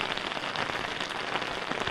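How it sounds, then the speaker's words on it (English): Rain patters steadily on an Otter Vortex ice fishing resort tent, a dense, even drumming hiss close by with small scattered drop taps, continuous and without voices. "it just started to rain like probably 5 minutes ago"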